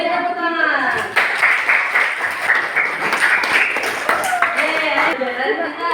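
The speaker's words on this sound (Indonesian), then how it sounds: "Beri tepuk tangan." A school class applauds together, a loud, close burst of hands clapping with bright ringing tones running through it, voices mixing in underneath.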